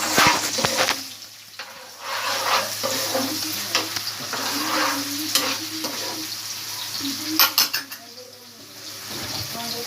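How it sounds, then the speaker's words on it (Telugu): Green chillies sizzle and fry in oil in a pan while rajma is being made, with stirring scrapes and a steady crackle; a voice speaks over it at times. "పచ్చిమిరపకాయలు కూడా వేసుకోవాలి."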